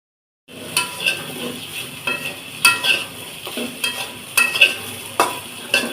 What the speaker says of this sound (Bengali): প্রথমে কড়াইতে পরিমাণ মতো তেল দিয়ে সিদ্ধ করে রাখা আলুগুলোকে দিয়ে লবণ হলুদ দিয়ে লাল লাল করে ভেজে নেব।